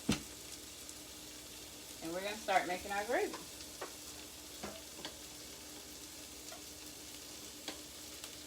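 Onions and peppers frying in a pan give a soft, steady sizzle with a few light stirring clicks, while a person speaks briefly in the middle.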